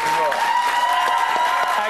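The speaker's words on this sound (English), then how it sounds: "Give him a big round of applause," A studio audience on a Big Brother's Little Brother TV show applauds in a steady burst of clapping that lasts throughout, while a host's voice talks over it.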